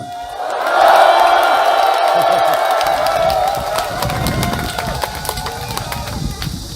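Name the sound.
crowd clapping and cheering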